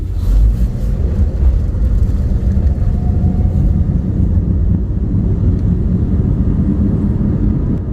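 A steady low hum and engine drone from inside a moving Subaru Crosstrek, a helicopter-like front noise that rises in pitch with speed, with road and wind rumble throughout and no talking.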